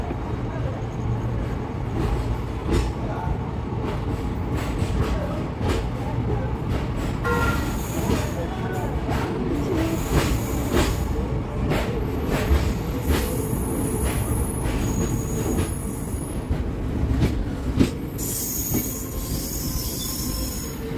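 Diwali special express train pulling out of Salem station, loud continuous rumble of wheels on rails with high squealing from wheels and cars close by, steady throughout.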